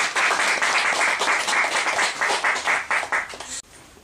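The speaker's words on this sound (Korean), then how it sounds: "우리 박수 한번" A small audience at a Korean author talk applauds in a dense burst of clapping that holds steady, then cuts off sharply near the end, leaving a quieter room.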